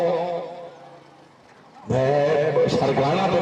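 Horse whinnies and hoof clatter at a neza bazi tent-pegging event in Khanewal, Pakistan, with a loud burst of crowd noise and voices taking over midway through.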